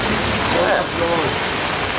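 Heavy typhoon rain pours down in Baguio, Philippines, a loud, unbroken roar of a dense downpour close by.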